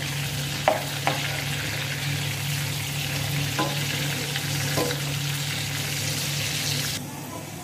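Prawns sizzle steadily in a hot pan after being turned over, a continuous bright frying hiss with a few sharp clicks of a utensil against the pan near the start and middle.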